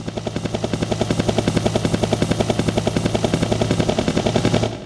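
A Boss Dr. Synth DS-330 produces a synthesized helicopter effect that pulses in rapid, evenly spaced thumps, like rotor blades, loud and steady for a few seconds before cutting off.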